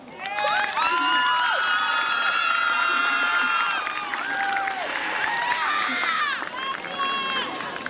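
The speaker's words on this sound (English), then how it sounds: "So, for all that we have done for you, the class of 2006, I believe a round of applause" A high school graduation crowd of 2006 erupts in cheering and whoops, with many overlapping shouting voices over scattered clapping, loud and sustained before easing slightly toward the end.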